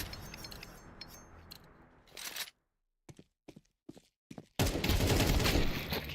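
Rapid gunfire bursts in a frantic video game match exchange, with choppy clustered shots, a short gap of near silence, then a dense loud burst at the end.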